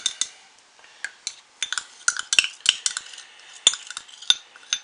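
A metal whisk beating soap-making oils in a container, quick irregular clinks and scraping taps against the sides in short bursts, close and fairly crisp, with no voices.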